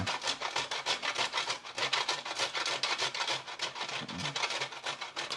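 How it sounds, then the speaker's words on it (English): Stale bread is grated into breadcrumbs on a grater, a continuous close, loud rasping rub with rapid back-and-forth strokes and no talking. "actually you can see now it's getting stuck in the grater"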